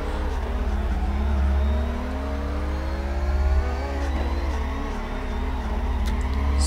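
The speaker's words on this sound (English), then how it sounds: "Smoking some tires" A drifting car in CarX Drift Racing Online howls at steady high revs while its tires smoke and squeal, the engine pitch rising and dipping as the drift is held, loud and continuous with no talking.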